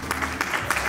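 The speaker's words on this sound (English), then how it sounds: "clap those hands" A church congregation claps hands in time during a celebration service, with a few sharp, evenly spaced claps that sound close and fairly loud, over a low murmur of voices.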